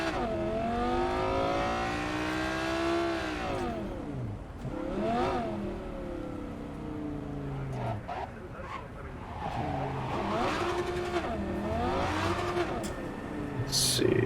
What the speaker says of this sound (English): Even with a driving mod, this car is pretty tough to drive still.